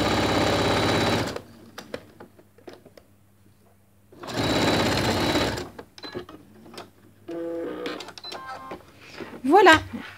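A sewing machine runs in two short bursts of rapid stitching on a mitered corner seam, separated by a quiet pause, with a voice speaking between and after the stitching.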